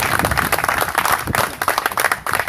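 A church congregation claps for the Lord during a sermon, with dense, steady applause from many hands close by lasting the whole stretch and no voices over it.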